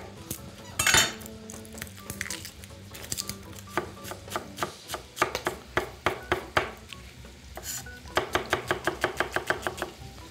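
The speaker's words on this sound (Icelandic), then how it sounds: "Og meðan ætla ég að hluta niður einn lauk." A knife chops a single onion on a board in a home kitchen, a run of quick, crisp taps in steady bursts, mixed with clinks of pots and utensils nearby.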